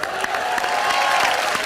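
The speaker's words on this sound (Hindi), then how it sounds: "हमारे शो के असली रॉक स्टार शकील जी के लिए जोरदार तालियां" Studio audience applause and cheering on a Hindi TV comedy show, a dense, steady wash of clapping sustained throughout the short stretch at fairly loud level.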